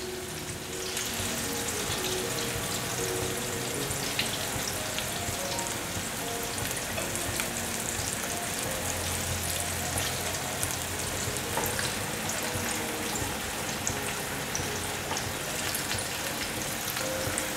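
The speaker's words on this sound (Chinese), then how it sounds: "先让它炸定型，等下再来翻动" Food deep-frying in hot oil while it sets its shape before being turned, making a dense, continuous crackling sizzle like heavy rain that stays loud and even throughout.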